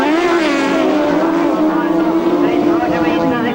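Grasstrack racing motorcycles from 1994 rev hard together at the race start, a loud sustained engine roar with rising pitch and steady intensity throughout, with a commentator's voice faintly underneath.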